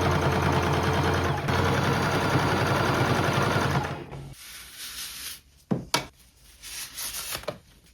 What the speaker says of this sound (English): We're going to sew all the way down